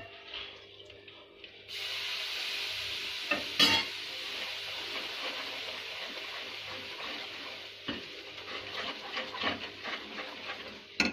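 Ghee is stirred into a Mysore pak mixture in a hot pan, producing a quiet, steady frothy sizzle that begins abruptly and carries a few faint scrapes and knocks from the spoon.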